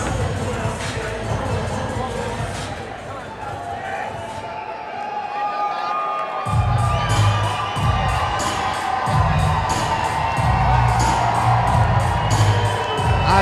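A crowd at an MMA fight event cheers and shouts steadily in a large venue, a loud, continuous roar that swells partway through, with announcers talking over it.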